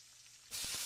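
A meatball burning in a frying pan bursts into a loud, close sizzle after a short quiet stretch, with a few sputtering pops.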